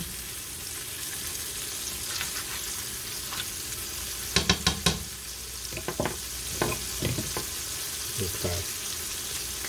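Chopped cheese sandwich filling browns in a hot pan, a continuous sizzle broken by several sharp clusters of scraping and stirring knocks; a voice speaks briefly.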